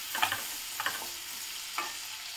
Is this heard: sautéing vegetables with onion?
yes